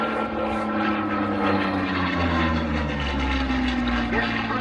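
A Hispano Buchon propeller aircraft powered by a Rolls-Royce Merlin engine with a four-bladed propeller drones loudly at an air show, its pitch sliding downward as it passes, with the engine note steady and continuous.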